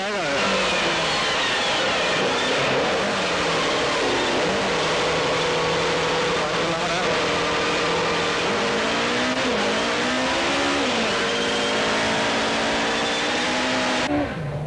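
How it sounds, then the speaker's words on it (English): A rally car races flat out on a stage of the 2003 Tour Natal rally, held at extreme sideways angles, its loud engine note rising and falling steadily throughout with no pauses. "he made a spectacular start to the stage, holding the car at incredible angles to the road"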